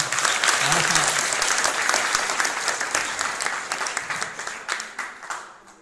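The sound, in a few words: audience clapping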